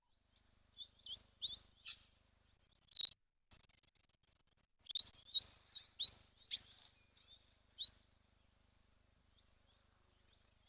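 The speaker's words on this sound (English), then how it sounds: "We've got some grey-headed sparrows." Grey-headed sparrows chirp at a waterhole in Lentore, Kenya, with short bright tweets scattered in bursts and pauses, faint against a quiet background.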